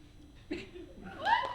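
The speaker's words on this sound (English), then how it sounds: "Oh, nice cat." A cat meows in a short, fairly loud rising-then-falling call near the end, after a brief soft vocal sound; the setting is a comic skit at an anime convention panel.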